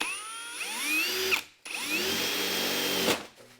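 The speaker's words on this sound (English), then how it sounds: "I'm going to just start drilling a hole through here" A power drill whines up to a high pitch while drilling through a car body, stops briefly, then revs again in a second sustained burst before winding down.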